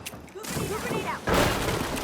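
A grenade goes off during a match of the shooter game The Finals, a sudden loud burst at about a second in that leaves a dense, roaring rumble under continuing game noise and a commentator's voice.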